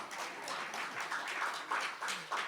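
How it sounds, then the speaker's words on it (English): Faint, scattered clapping rises from an audience at a health ministry address, a soft ripple of many hands heard from a distance with a few sharper claps standing out. "you can clap for that"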